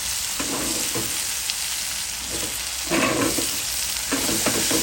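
Chopped long yard beans fry in hot oil in a pan, a continuous close sizzle broken by repeated scraping stirs of a spatula, with no talking.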